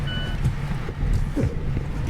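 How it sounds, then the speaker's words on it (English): Steady high electronic beeping over a low vehicle engine rumble, a rental car's seatbelt warning chime repeating inside the cabin. "what is beeping at me?"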